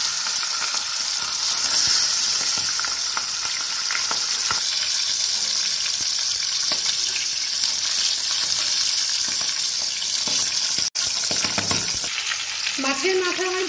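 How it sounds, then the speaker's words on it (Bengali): Fish head frying in hot mustard oil gives a loud, steady sizzle with dense crackling spatter throughout, close up and with no voices. "তেল আমার গরম হয়ে গেছে, এবার আমি মাছের মাথা ভেজে নেব।"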